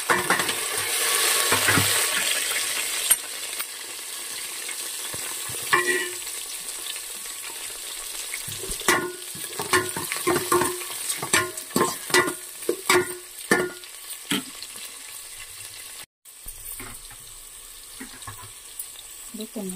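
Chopped onions go into a hot pan for mushroom biryani, bursting into a loud sizzle that settles into steady frying, punctuated by repeated scraping and stirring clatters up close.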